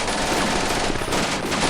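An MG42 machine gun in the Combat Mission: Afrika Korps game fires a dense, rapid continuous burst, loud and close for under two seconds.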